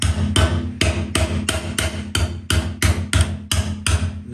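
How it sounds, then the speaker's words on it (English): Hammer blows on bent metal angle stock being folded over a crease during motorcycle restoration work, about a dozen sharp, ringing strikes in a steady, even rhythm, close and loud, with no talking. "I'm going to hammer this over."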